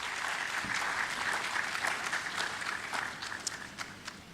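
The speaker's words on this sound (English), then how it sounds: "Please let's welcome him with a round of applause." At a Ghana higher education summit, an audience applauds to welcome a speaker, dense sustained clapping filling the room at even loudness, easing slightly toward the end, with no talk.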